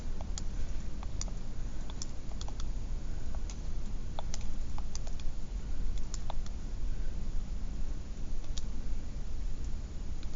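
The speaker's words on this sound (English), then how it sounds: "so I'm just going to type in all those values." Light, irregular clicks of buttons being pressed while values are entered into a calculator, faint against a steady low background hum, with no speech.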